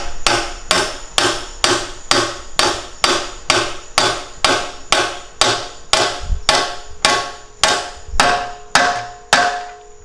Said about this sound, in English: you can just kind of smack it and you'll hear a tone change once it seats